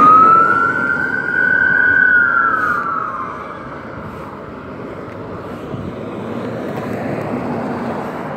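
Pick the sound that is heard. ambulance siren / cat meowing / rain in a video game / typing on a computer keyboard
ambulance siren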